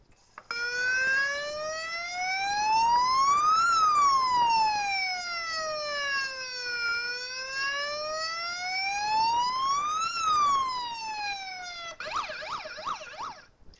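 An emergency vehicle siren wails alone, rising and falling in two long slow sweeps, then switches to a fast yelping warble at the end, loud and clear.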